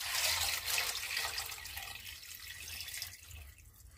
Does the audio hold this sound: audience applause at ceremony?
no